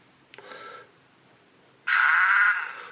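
A little grinder effect from a cheap DCC sound card: a brief faint buzz, a pause, then a louder, steady, harsh whine lasting about a second, with no talking.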